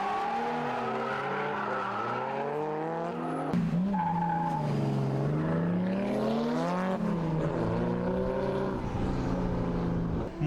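Drift race cars sliding through the end of a corner as the champion loses tire grip, with continuous loud engine drone and wavering tire squeal over the whole stretch, a sharper swell midway.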